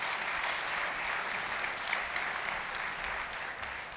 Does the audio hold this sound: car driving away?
no